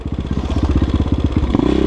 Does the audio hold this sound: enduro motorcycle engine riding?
yes